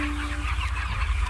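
Broiler chickens of over two kilograms fill a poultry farm shed with a dense, continuous clucking chorus, loud and close, with no voices.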